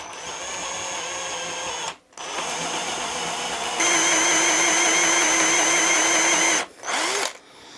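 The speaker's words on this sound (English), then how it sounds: "So now we just need to drill holes." A power drill bores holes in the body of a large wooden stick bait lure for saltwater fishing, running in a loud, steady whine with two brief pauses and a higher-pitched stretch in between.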